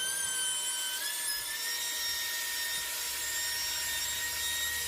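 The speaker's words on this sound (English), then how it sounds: "That way I don't have the trimmer tearing out or pulling pieces of the top away." Laminate trimmer with a bearing-guided bit routing a binding channel along a guitar body edge, a continuous high-pitched whine with steady tonal harmonics, loud and close, running evenly without pause.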